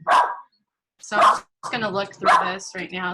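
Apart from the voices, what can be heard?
dog barking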